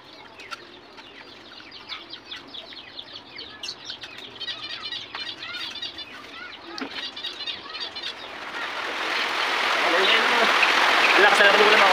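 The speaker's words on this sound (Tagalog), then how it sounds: "Ang lakas na naman yung ulan mga kapagaw." Heavy rain swells into a loud, steady hiss beside a pen of pet birds, after a stretch of chirping and clucking under talk.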